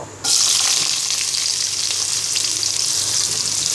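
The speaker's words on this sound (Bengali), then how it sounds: "এবার পেঁয়াজটাকে বাদামি কালার করে ভেজে নিব" Chopped onion dropped into hot oil in a wok, bursting into a loud, dense sizzle after a quiet start and holding steady.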